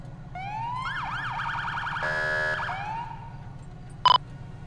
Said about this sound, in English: We're using a code 3 Z3 siren.